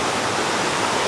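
River water flowing at a valley campsite in West Sulawesi, a steady close rushing wash that stays even for the whole second.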